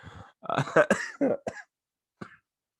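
Several harsh, bursting coughs in a quick cluster, close and fairly loud, followed by a pause and one short final cough.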